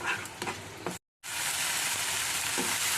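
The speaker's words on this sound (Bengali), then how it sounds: "এটা কষবে, তেল ছাড়বে, ততক্ষণ আমি নাড়তে থাকবো" Spice paste fries in oil for a papaya curry while being stirred, a steady close sizzle with a few scraping strokes at the start, broken by a brief silent gap before the frying continues.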